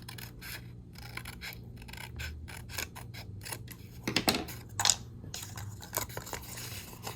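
Scissors cutting through fabric pages of a sewing swatch journal, with repeated close rasping snips and rubbing scrapes in uneven bursts, loudest in the middle, and no talking.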